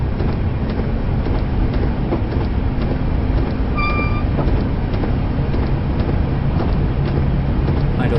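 A train on idle power, slowing as it draws into Lake Station, gives a steady, loud rumble with rolling wheel noise and a brief high whine partway through, heard alone without talk.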